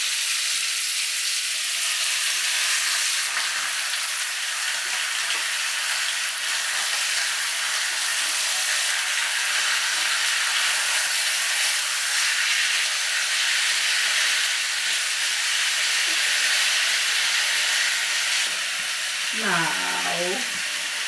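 Beef pieces fry in hot oil in a pan with potatoes and cheese to follow, giving a loud, continuous close hiss and sizzle. A brief voice comes in near the end.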